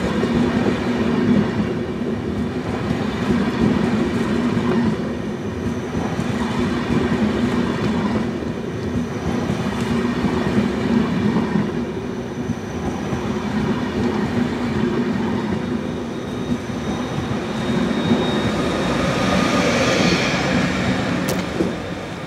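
An ÖBB class 1116 locomotive hauling a Railjet train rolls into Stuttgart Hauptbahnhof, a steady loud rumble of wheels and carriages with a brief high squeal near the end.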